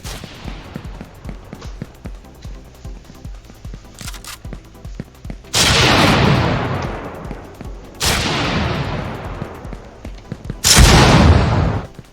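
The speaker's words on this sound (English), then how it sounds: "Whoa, the shotguns are powerful" Shotguns fire in the multiplayer video game Decimated: three loud, separate blasts, each with a long decaying tail, rise over quieter game noise and faint clicks.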